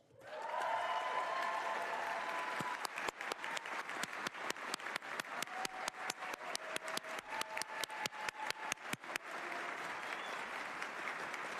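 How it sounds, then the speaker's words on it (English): Audience applause at a Minnesota political event honoring state officials and their spouses, steady crowd clapping that breaks into sharp, close individual claps near the microphone before settling back into a dense wash. "Stop clapping into the mic."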